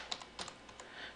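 Fingers tapping a computer keyboard while entering a network configuration command, a few quiet, close keystrokes spaced unevenly over about a second, with no talking.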